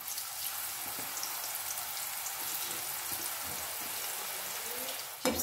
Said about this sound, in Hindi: अब इनको भी डाल देते हैं और इनको भी फ्राई कर लेते हैं।